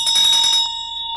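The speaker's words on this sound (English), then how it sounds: "when you use the Vajra Scepter to strike the bell" A small ritual bell, struck with a Vajra scepter during a Buddhist Lamdre teaching at a temple, rings bright and loud at first with a rapid shimmering beat, then settles into a clear sustained ring that slowly fades.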